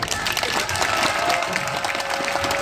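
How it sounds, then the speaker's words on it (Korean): Dense crowd applause and cheering fill an outdoor rally of about 600 people from land-damage victims' groups in Korea, a steady, loud wash of clapping throughout. "큰 박수 다시 한번 부탁드리겠습니다"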